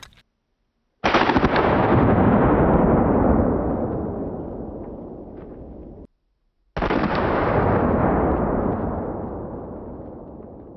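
Two loud blasts from a double-barrel shotgun loaded with double-aught buckshot fired at pineapples, each a sharp boom with a long rolling echo that fades over several seconds, the second following shortly after the first dies away.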